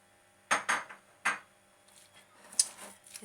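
A spoon clinks and scrapes against a bowl while stirring cottage cheese with powdered sugar, a few sharp close knocks followed by softer scraping, no talk.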